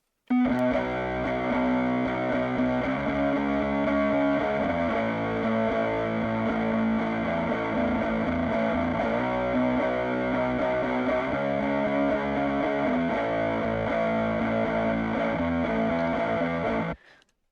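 Heavily distorted electric guitar dialed in to mimic a guitarist's tone, compressed with an OTT before the distortion; sustained loud chords ring continuously for about sixteen seconds, shifting between chord shapes, then cut off abruptly.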